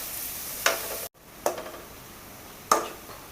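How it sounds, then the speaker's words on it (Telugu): Onion pieces fry in a pan with a soft, steady sizzle. A few sharp scraping stir strokes come from close by, and no one speaks. "మనం ఉల్లిపాయ ముక్కలు కొంచెం బ్రౌన్ కలర్ వచ్చే వరకు ఉల్లిపాయ ముక్కలు బాగా ఫ్రై చేసుకోవాలి"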